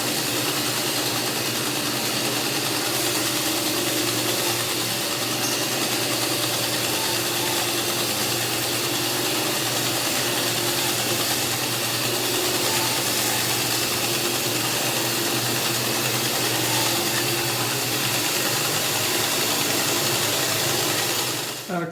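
Worktable sawmill cutting through a cherry log with the blade binding, a loud steady mechanical drone carrying squeaks and groans throughout, ending abruptly.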